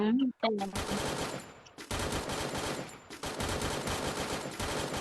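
Rapid automatic gunfire in the mobile battle royale game Free Fire: long, loud, sustained bursts of machine-gun fire, broken by a couple of short pauses, after a brief electronic tone at the start.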